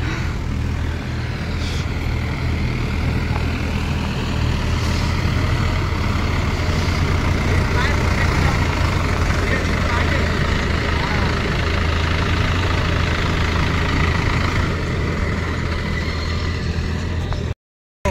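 A Mahindra Yuvo Tech+ 575 DI 4x4 tractor with an HML gearbox works a muddy paddy field, its diesel engine a loud, steady, close drone that runs unbroken for almost the whole stretch.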